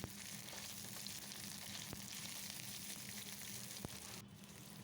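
Chopped onion frying in hot mustard oil with black cumin seeds, a soft even sizzle with a couple of faint stirring ticks, quiet and steady.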